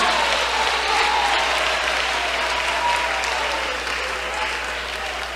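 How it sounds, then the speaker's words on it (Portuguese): A church congregation claps hands together in sustained, dense applause, loud and steady throughout, easing slightly toward the end with no clear talk over it. "batam palmas e glorifiquem a Jesus"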